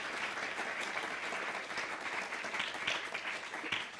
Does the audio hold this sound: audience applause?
yes